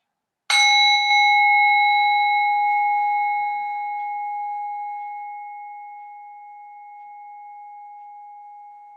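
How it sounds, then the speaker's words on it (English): A single bell is struck once and rings out with a clear, sustained tone that slowly fades over several seconds in otherwise silent surroundings. "In a moment, you'll hear the sound of the bell"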